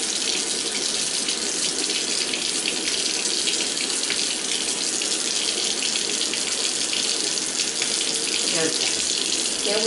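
Tap water runs continuously during a little girl's hair wash, a loud close rushing splash that stays steady throughout.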